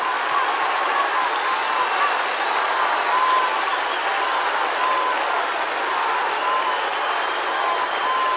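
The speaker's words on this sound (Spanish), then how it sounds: "El aplauso para la rutina de Belén Mora." A large festival audience at Viña del Mar's Quinta Vergara applauds after a comedy routine, a dense, continuous roar of clapping that stays even and full from start to finish with no talk over it.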